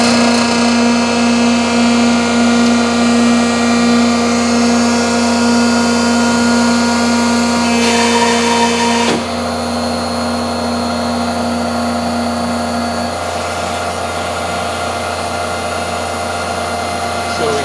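Loud, steady industrial machine hum from a TMP 140-ton vacuum laminating hot press, with a strong tonal drone and a shift in pitch partway through, running continuously with no talking.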